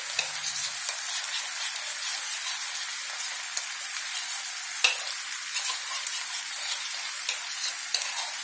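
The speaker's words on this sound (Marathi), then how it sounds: "आणि आता आपण जे बॅटर राहिलेलं होतं कॉर्नफ्लॉवरचं ते आपण यामध्ये टाकणार आहोत." Cornflour batter goes into a pan of frying egg chilli, giving a bright steady sizzle and crackle close by, with a brief low thump near the start and occasional spatters.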